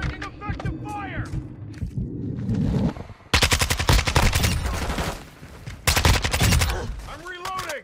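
Automatic weapon fire from an AK-74U and others in a first-person shooter, bursts of rapid loud shots crackling through the middle and again near the end, with radio chatter and game voices talking over the start and finish.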